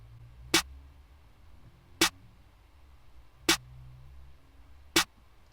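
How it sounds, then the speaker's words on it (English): A clap sample in a dark trap beat, four sharp, evenly spaced claps over a quiet low background, alone. "Obviously this clap."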